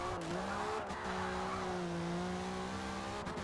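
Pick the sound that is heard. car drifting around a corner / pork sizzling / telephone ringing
car drifting around a corner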